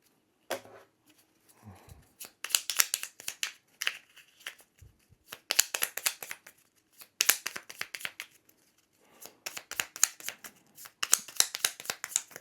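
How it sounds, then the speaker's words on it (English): Tiles from the board game Harvest clatter and slide as they are shuffled by hand, coming in repeated bursts of rattling with brief quiet pauses between them. "we're going to shuffle this back into the sunset tiles"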